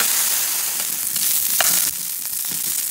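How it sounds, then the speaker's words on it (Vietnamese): Mushrooms stir-frying in olive oil in a pan give a loud, continuous hissing sizzle with a few faint stirring scrapes, steady from start to end. "để cho nấm vào xào"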